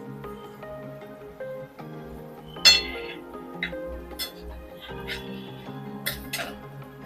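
Masala pav is moved onto a plate with a few sharp clinks, one loud one followed by lighter taps, over a faint steady background hum.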